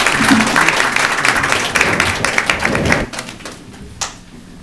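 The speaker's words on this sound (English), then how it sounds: "Well, I think they deserve a round of applause." Council chamber audience breaks into applause at a town council meeting, a busy patter of individual claps that thins and fades after about three seconds, leaving a few scattered claps and a last lone tap.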